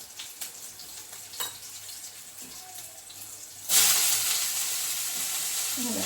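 Cabbage hits a hot pan and frying starts abruptly, becoming a loud, steady broadband sizzle after soft scattered clatter and faint kitchen sounds.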